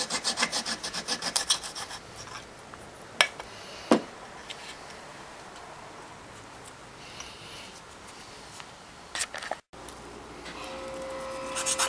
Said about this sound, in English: take the rough edge off of the face with a sanding pad